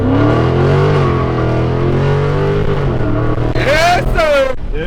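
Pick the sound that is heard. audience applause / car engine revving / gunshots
car engine revving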